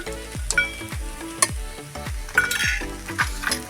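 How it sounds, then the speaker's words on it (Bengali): Fried nuts tipped into pasta frying in a pan, sizzling steadily while a spatula knocks and scrapes in quick repeated strokes, with a few metallic clinks, close and with no voices. "প্রথমে দিয়ে দিচ্ছি বাদাম ভাজা"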